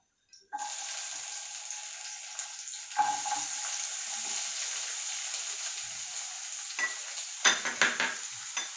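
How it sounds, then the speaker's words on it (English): Carrot and capsicum are stirred and fried in a pan, giving a steady close sizzle after a sudden start, with a few louder scrapes and clatters of the spoon near the end. "Now I'm going to add the veggies. You can use any veggies. I'm using carrot and capsicum."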